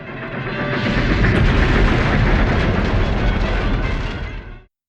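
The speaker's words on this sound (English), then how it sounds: "the gunfire for a cartoon is crazy" Continuous, loud roar of cartoon gunfire and explosions from a vintage Fleischer Superman animated short, dense and rumbling for about five seconds before cutting off abruptly.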